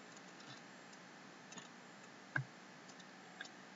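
Faint, sparse computer mouse clicks sound in a quiet room, a few soft isolated taps with one sharper click near the middle.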